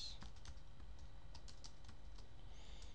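Rapid keystrokes on a computer keyboard while JavaScript code is written, a quiet close run of irregular clicks over faint room hiss with no talk.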